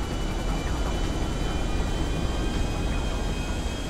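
A continuous, even airplane engine drone in the video game Grand Theft Auto V hums and roars steadily at full throttle, close and unchanging.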